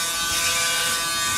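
A Braun electric shaver cutting three-day stubble gives a steady, close, high-pitched buzzing whir that holds constant throughout, with no talking.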